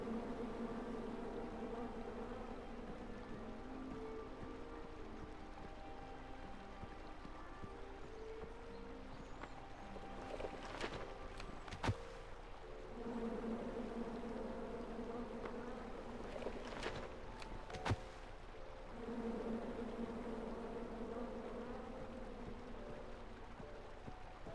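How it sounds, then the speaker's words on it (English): Angry bees swarm around a tree in a King's Quest game, a steady droning buzz that swells and fades over a faint background, broken by a few sharp clicks, with no talk. "Come at me, bees!"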